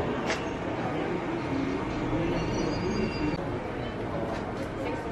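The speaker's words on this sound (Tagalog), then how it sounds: "Fujisan bullet train." Bullet train near Mount Fuji running past as a steady, fairly loud rolling rumble with faint high wheel squeal, continuous throughout.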